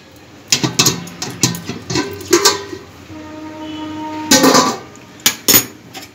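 A pot of raw mangoes with salt is stirred with clattering metallic scrapes and knocks, then its lid clanks down with a brief ringing tone. The sounds are close and loud, with no speech.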